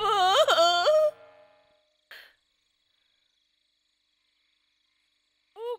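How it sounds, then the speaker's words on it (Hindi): A woman wails and cries in an Indian action film dubbed into Hindi, a short rising and falling moan followed by silence, a faint brief sound, and the start of another sob. "अपने पड़ोस के वेंकटेश्वरी के घर में किसी के रोने की आवाज आ रही है"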